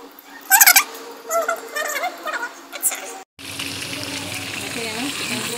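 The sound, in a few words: chicken frying in oil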